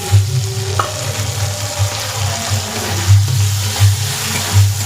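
Boiled potato sizzles in a pan of frying turmeric gravy for a vegetarian pointed gourd dish. A close, continuous hiss is heard along with a low rumble and a few stirring knocks.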